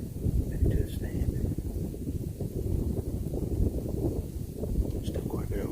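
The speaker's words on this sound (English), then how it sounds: "Wind still picked up pretty good" Wind gusting steadily outdoors on a deer hunt under overcast skies, a continuous low rumble buffeting the microphone throughout, with faint rustling on top.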